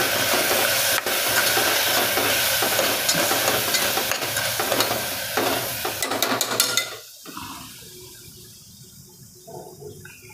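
Green chili fries in a pan with turmeric and coriander-cumin powder for a garlic and fenugreek curry. A busy, crackling sizzle with stirring clatter runs for about seven seconds, then abruptly drops to a quiet background.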